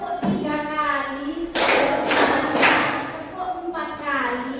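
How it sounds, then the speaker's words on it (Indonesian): Three sharp group hand claps in a classroom setting, loud and evenly spaced, with a voice speaking before and after them. "Tepuk tiga kali."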